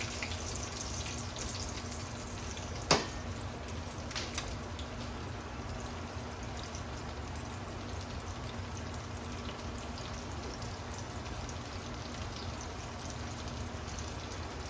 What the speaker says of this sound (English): Get that frying working.